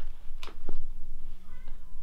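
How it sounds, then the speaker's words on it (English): A cat gives a couple of short meows against a steady low hum, fairly near, with a brief mechanical tone underneath. "And my cat is meowing in the background."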